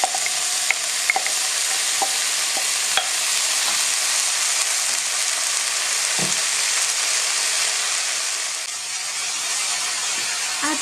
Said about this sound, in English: break up your stock cube into the pan and add your cauliflower, followed by your sweet corn.